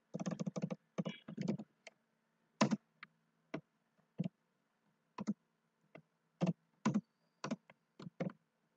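Keystrokes on a computer keyboard while C# Selenium test code is typed, coming in short bursts of rapid clicks separated by pauses, close and clear with no talking.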